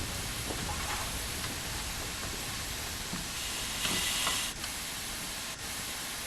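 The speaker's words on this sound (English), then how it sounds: "So if you just want to see the steam brake quickly, we'll stop. So that's the steam brake right there." Steam brake hiss on a train in Train Sim World, a steady broadband hiss running throughout with a brief louder burst near the middle, no voices.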